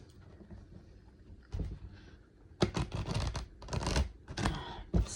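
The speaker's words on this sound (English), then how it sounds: "that's not how you shuffle cards" Tarot cards are shuffled in quiet, crisp bursts of riffling and clacking, several short flurries close to the microphone.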